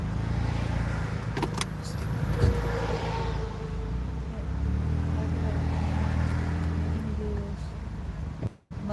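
A Dodge Ram truck reverses with a steady low engine rumble that holds close and loud throughout, shifting slightly in pitch as it moves, with brief clicks and a sharp knock near the end.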